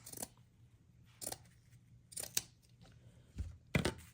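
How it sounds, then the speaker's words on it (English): Scissors snipping through a piece of burlap from a roll at a craft table, five or six crisp, separate cuts spaced about a second apart, close and clear with no talk. "cut a piece of burlap off"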